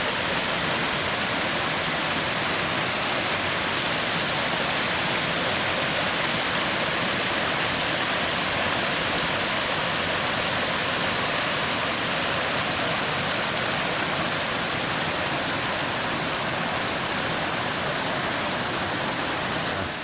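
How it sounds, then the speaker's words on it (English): A waterfall and river rapids in the wilderness along a canoe trip trail, a continuous loud rushing roar of churning water, steady and broadband for the full length with no talk over it. "There's a waterfall in there even."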